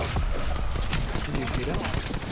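Continuous rapid gunfire in Apex Legends, loud and steady throughout, with bursts of shots layered together and talk mixed in.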